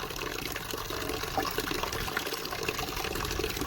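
Soaked sundakkai (turkey berries) squeezed by hand in a bowl of water to free the seeds, giving a steady close wet swishing and trickling with no voices.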